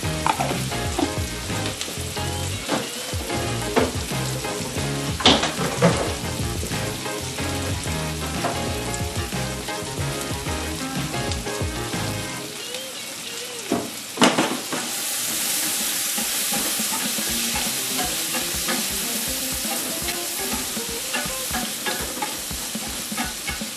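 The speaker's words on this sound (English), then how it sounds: "I'm going to add a little more wine to this to deglaze the pan again." Swordfish sears in a hot pan as wine and butter are added to deglaze it, a loud continuous sizzle and hiss with stirring scrapes that flares brighter partway through.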